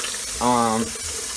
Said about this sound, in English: It's like the hottest water my sink will offer